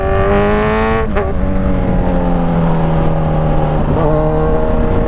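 Two cars race each other on a road, engines revving hard with shifting pitch and gear changes, loud and close throughout with a passing whoosh.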